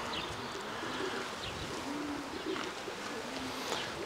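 Racing pigeons in a loft give soft, low cooing calls, faint and intermittent over steady background hiss, with no voices.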